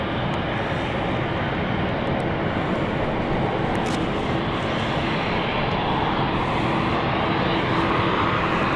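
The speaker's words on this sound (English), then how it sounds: "Lining up though is the Berlin flight. That's now heading off to Berlin after it came in earlier." An airliner takes off for Berlin at London City Airport with a loud, steady engine roar and broad rushing noise that stays constant throughout, with no speech.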